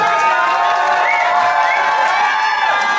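A crowd at a Losar new year celebration in Paris cheers loudly, with shouts and whoops over a continuous roar of clapping, sustained and close.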